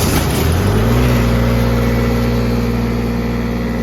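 A Lincoln 300D welder engine mounted on a 2011 Ford F-550 utility truck cranks on a cold day, catches within half a second, revs briefly, then settles into a loud, steady, close idle.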